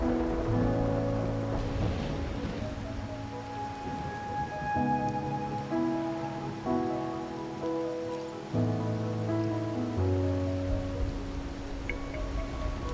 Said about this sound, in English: are you simply passing the time until the rain ends?